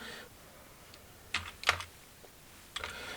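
A computer keyboard used to type a captcha while filling in an online UP B.Ed 2024 admission form: a few sparse, quiet key clicks in small clusters against a low background hiss, with no voices.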